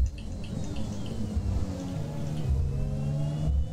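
A Formula 1 car in F1 2021 accelerates out of a corner onto the start-finish straight, its engine note climbing steadily in pitch through rising gear tones, close and continuous.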